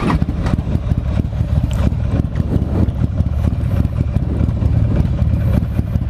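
A Buell XB9R Firebolt motorcycle with a 984 cc V-twin engine derived from a Sportster 883 runs close up, loud and continuous, with an uneven, lumpy idle and a rumbling low-frequency throb.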